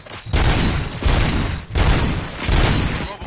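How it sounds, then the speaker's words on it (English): Gunfire in the video game Robocop: Rogue City comes in three loud, booming bursts separated by short pauses, each burst a heavy rattle of shots. "Gunshots?"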